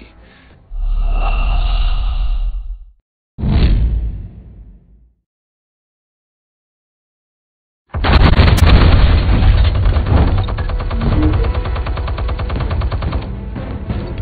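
Explosions and bursts of gunfire in a Batman video game, two heavy blasts early on, then silence, followed by a long dense barrage of rapid booming fire that continues to the end.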